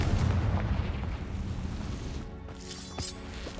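A Confringo blasting spell goes off in Hogwarts Legacy as a rumbling explosive boom that fades into a noisy roar, with a few sharp pops near the end.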